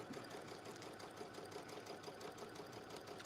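A sewing machine runs steadily while stitching the final seam of a quilt block, a fast, even mechanical whir with rapid needle ticks, faint and continuous without pauses or talk.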